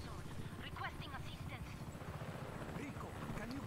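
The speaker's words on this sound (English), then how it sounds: "That's a nice helicopter." A helicopter in the video game Just Cause 3 thumps its rotor in a steady low pulse with a whining engine, under someone talking over it.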